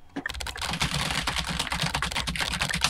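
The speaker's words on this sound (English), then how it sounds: "I need to type faster, even though I am not really typing." Rapid, close computer keyboard typing in the game Emily Is Away, with dense, irregular key clicks that run nonstop for several seconds and no voices.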